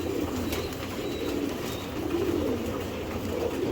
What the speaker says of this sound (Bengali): এই দেখেন মাদি কবুতরটি